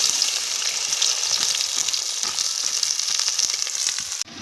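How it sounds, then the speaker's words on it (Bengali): Onions fry in hot oil for a home-style chicken curry, making a bright, continuous hiss that stays loud and even throughout, with faint crackles underneath and a small knock near the end. "তেলখান গরম হয়ে গেলে আমরা এখনকার পেঁয়াজগুলা ভাজি নিব।"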